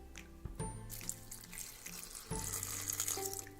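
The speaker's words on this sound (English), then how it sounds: "and add some water" Water running into a blender holding mint leaves, coriander, green chilli, garlic and ginger for chutney, a soft steady pour from a tap with a brief clunk partway through.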